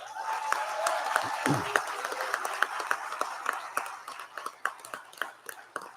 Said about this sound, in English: Can we get another round of applause for these cadets?